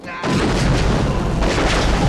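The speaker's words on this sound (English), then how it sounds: "The explosions in this movie, they are not disappointing me for a second" A loud, deep explosion from the 1987 James Bond film The Living Daylights erupts suddenly and rumbles on, heavy low booms rolling under crackling debris.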